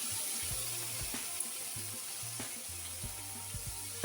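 Boiled lentils hit hot spice tempering in a pan and sizzle softly and steadily, with faint clinks of a utensil and low hum underneath; there is no talking.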